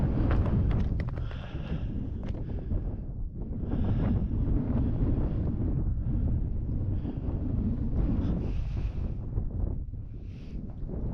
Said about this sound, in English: I think I've had enough of this wind.